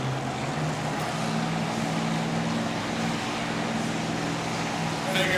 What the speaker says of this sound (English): This is a full-blown Hemi modified tractor